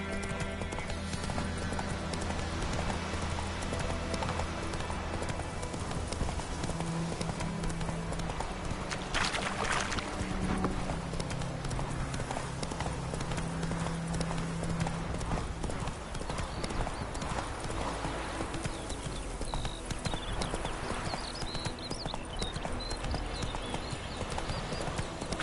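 Horse hooves clip-clop in a steady galloping rhythm in a PS4 video game, loud and continuous throughout. A brief whinny and some faint game sounds rise over the hoofbeats.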